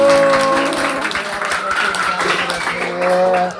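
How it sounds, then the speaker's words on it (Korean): Church congregation at a youth revival meeting in Battambang, Cambodia clapping together, steady sustained applause mixed with voices and sung or spoken sounds throughout. "하나님께 영광의 박수"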